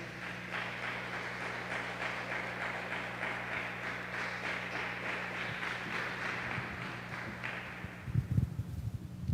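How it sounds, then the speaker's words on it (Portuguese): A church congregation claps together in a steady, rhythmic wash of applause over a low electrical hum, fading away near the end into a few scattered knocks. "que as palmas louvem o Senhor"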